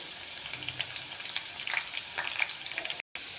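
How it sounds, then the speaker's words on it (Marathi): Whole okra (bhendi) frying in a pan, a steady crackling sizzle with bursts of oil popping, fairly soft, with no talking. "पूर्ण भेंडी आपण आता तळून घेऊ"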